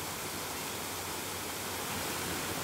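Steady, full-bodied rush of flowing water, like a stream or small waterfall in the Peruvian countryside, continuous and close with no other sounds.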